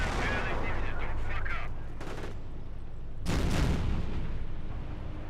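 Machine gun fire rattles against a bunker in the WWII strategy game Company of Heroes, with dense bursts of gunfire and booming impacts layered over constant battle noise, growing louder near the end.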